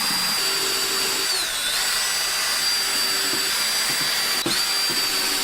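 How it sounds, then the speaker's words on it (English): Power drill pre-drilling holes in the wooden frame of a baby iguana enclosure, a steady close whine running the whole time with a brief pitch dip midway and a short catch near the end. "Puzzle this, and then we are going to start drilling it."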